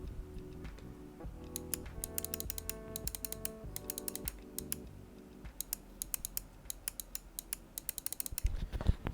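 Rapid, crisp button clicks from a Cooler Master MM711 ultralight gaming mouse, sounding close and steady in irregular bursts over quiet background music.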